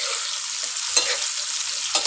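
Potatoes fry in hot oil while being stirred, a steady close sizzle broken by two short scraping stirs about a second apart.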